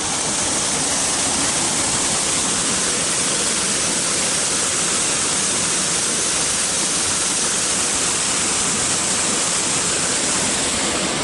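Water in an acequia irrigation channel rushing steadily toward a road, a dense, loud, continuous broadband roar with no breaks, heard close and alone.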